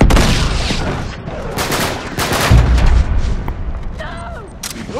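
Heavy gunfire in the online multiplayer shooter Uncharted 3: Drake's Deception, loud overlapping shots and blasts with booming hits, a player's voice talking over the chaos.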